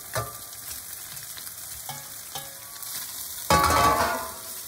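Chorizo added to a pan of lentil base, sizzling and frying steadily with a few soft stirring clatters, then a louder burst of sizzle near the end as more hits the hot pan.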